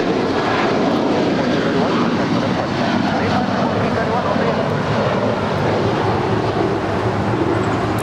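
Boeing 757 airliner at Los Angeles International Airport, a steady loud broadband jet engine roar filling the scene throughout, with people talking over it.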